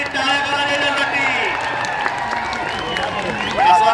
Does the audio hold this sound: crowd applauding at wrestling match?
yes